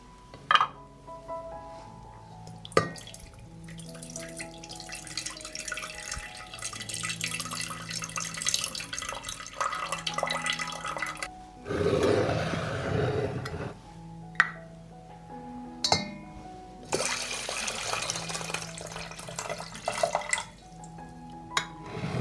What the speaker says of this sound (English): I will pour the liquid from the jar into the pot.